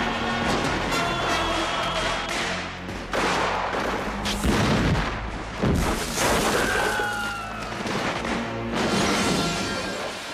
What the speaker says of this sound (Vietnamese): hầu tước Bernard Delaunay hạ lệnh xả súng vào đám đông khởi nghĩa.